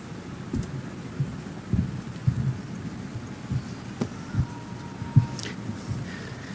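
Rain falls steadily through an outdoor evening ceremony at Jones Bridge, with repeated low thunder rumbles and thumps rolling in every second or so beneath a fairly loud, constant downpour hiss.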